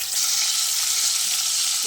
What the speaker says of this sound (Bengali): চলো মাছগুলো ভালো করে ভেজে নিই